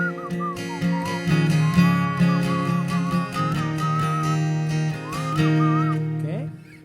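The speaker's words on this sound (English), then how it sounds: "So I just whistle." A person whistles a melodic line standing in for the guitar break of Ringo Starr's "It Don't Come Easy", clear and close over a steady strummed guitar accompaniment.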